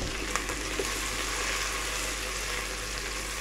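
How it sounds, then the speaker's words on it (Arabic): Onion and garlic frying in a pan to darken before going into rice, a dense, continuous sizzle with a few faint stirring clicks and no talk. "احنا بس هنحمرها لون غامق عشان تدينا مع الرز لون حلو"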